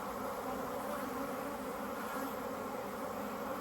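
Honey bees buzzing during a hive inspection as frames are lifted and shaken, a steady dense drone of many bees close by, fairly quiet and continuous with no talk.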